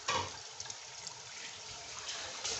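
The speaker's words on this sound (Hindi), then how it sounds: "चावलों का पानी जो है निकाल लूँगी।" Water pours and splashes steadily for a couple of seconds as it is drained off soaked rice, a soft continuous running sound, with no talking.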